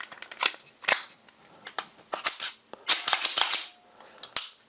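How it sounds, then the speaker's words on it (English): A Glock Gen 4 pistol slide is fitted onto a frame, giving a string of sharp metallic clicks and snaps, some doubled and close together, crisp and near with no talking. "Now we have the Glock Gen 4 slide. We're just going to put it right over the frame."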